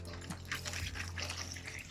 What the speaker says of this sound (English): I'll fill that with some more water